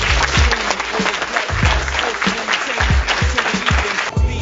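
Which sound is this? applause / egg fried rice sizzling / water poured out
applause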